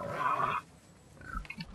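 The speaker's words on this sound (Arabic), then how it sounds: "الخنزير." A pig sound plays from an augmented reality app on a phone: a short, loud grunting squeal, then quieter low snorting noises, heard alone with no voices.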